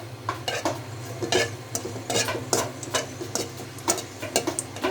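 A dried red chili dropped into hot oil in a home kitchen pan while tempering greens, a soft steady sizzle under repeated light scraping and clinking of a spatula, close and without talk.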